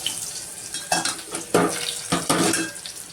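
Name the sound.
crushed garlic frying in hot oil in a pot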